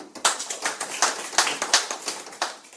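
A small group claps briefly at close range, a quick irregular patter of hands lasting a few seconds.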